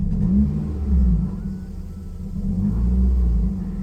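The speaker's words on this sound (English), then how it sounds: "when I gas it here, it stutters, and then it filters out" A 2010 Nissan Cube engine revs in loud, uneven surges with a stuttering, rumbling quality, no talking over it.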